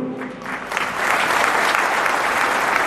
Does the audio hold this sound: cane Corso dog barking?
no